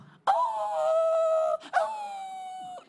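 A voice imitates a dog howling in two long, sustained, wavering howls, the first about a second and a half and the second slightly shorter, loud and close with no other talk.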